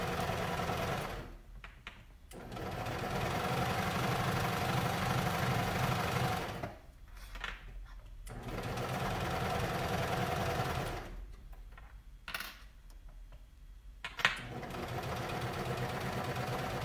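A sewing machine stitches a women's cardigan along a folded fabric edge, running in three steady mechanical bursts with short quiet pauses between them, close and alone.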